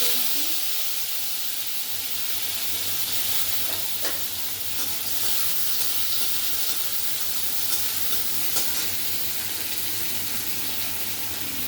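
Cumin and chopped tomato fry in oil in a village kitchen, giving a continuous, even sizzle with occasional faint stirring scrapes throughout.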